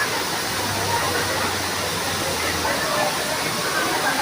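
Water rushes in a constant broadband roar at Bato Spring Resort, like a nearby waterfall or fast stream, with a faint low hum beneath.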